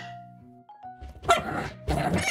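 A small black puppy gives a few sharp, close barks in two bursts after a quieter tonal stretch, with no talking over them.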